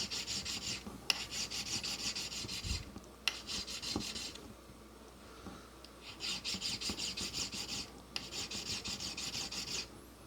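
Fine file rasping across a small metal square diamond setting during jewellery bench work, steady back-and-forth strokes in four long bursts with brief pauses, close and fairly quiet.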